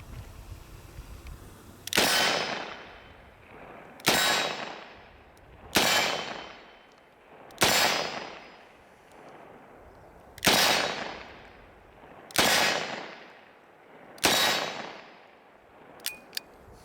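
Seven loud gunshots from a Smith & Wesson 686+ .357 Magnum revolver with a 3-inch barrel, fired at targets about 14 yards away. The shots come at roughly two-second intervals, and each sharp crack rings out into a decaying echo.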